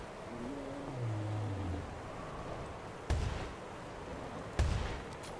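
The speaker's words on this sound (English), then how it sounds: "Well, I'm shooting him. Yeah, keep shooting him." Two sharp gunshots in a video game, aimed at Bigfoot, crack out about a second and a half apart over a low steady background rumble.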